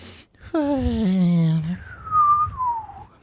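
A voice imitates a sleeping creature's little nose whistle: a low, groaning drawn-out tone slides down, followed by a thin, high whistle that wavers and fades.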